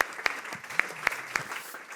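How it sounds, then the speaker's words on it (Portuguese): A small podcast studio audience gives a brief round of applause, a few sharp separate claps standing out over a faint, thin background. "Uma salva de palmas para as duas."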